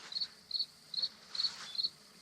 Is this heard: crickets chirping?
yes